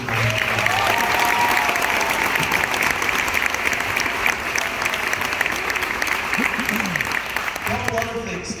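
An audience at an honor roll ceremony claps in steady, sustained applause that fills the room, while a voice speaks over it near the start and again at the end.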